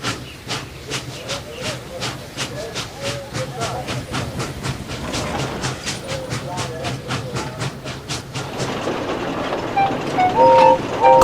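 Steam engine train puffing away, a rapid, regular chuff of steam bursts over a hissing, rumbling base, with a few whistle-like tones near the end and voices underneath.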